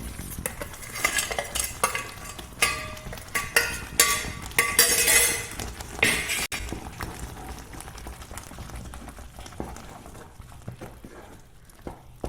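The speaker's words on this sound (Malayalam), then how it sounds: "ഇനി ഈ അണ്ടി മുന്തിരി വറുത്ത് വെച്ച് ഇതിലിടുന്നുണ്ട്" Cashews and raisins fry in a pan for kesari while a spoon stirs them, giving repeated scraping clinks of metal on cookware over a light sizzle, loud at first and fading toward the end.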